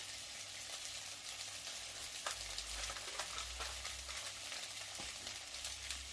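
Steaks seared in a hot pan, seasoned with a generous coating of spice rub, give a steady close sizzle and crackle throughout with occasional sharper pops and no talking.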